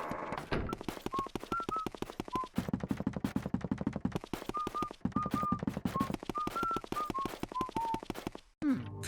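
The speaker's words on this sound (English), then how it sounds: "Luigi walks with a perky step throughout, even going so far as to cheerfully whistle the musical theme of the game" Luigi whistles the cheerful theme melody in the video game Luigi's Mansion, a bright tune of short sustained notes carried over rapid, crisp footstep taps and game sounds, pausing briefly midway.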